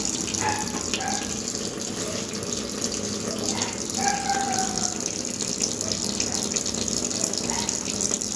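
Tap water runs steadily into a basin in a clinical setting while hands are rinsed, a continuous even gush with no talk.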